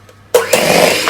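Electric mixer starting up in red velvet cake batter: brief quiet, then a sudden loud whirring drone that holds steady, close by.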